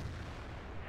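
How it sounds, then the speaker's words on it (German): A single heavy tank cannon shot in the World of Tanks video game, a deep booming blast with rumbling low end that fills the short moment. "schöner Schuss von Highway Killer"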